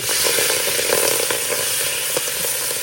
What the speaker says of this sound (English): I'm going to get those carrots down the bottom of the pan